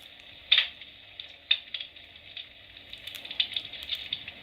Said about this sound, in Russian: звук потрескивания дров